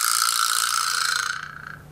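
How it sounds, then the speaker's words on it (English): A vibraslap, the percussion instrument modeled on a struck dried donkey jawbone, gives one sharp strike followed by a buzzing rattle that holds steady, then fades out over about a second and a half. "So he made this instrument here called a vibraslap that imitates the sound of that struck jawbone."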